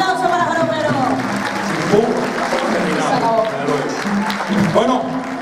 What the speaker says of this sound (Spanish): fuertes aplausos para Joropero.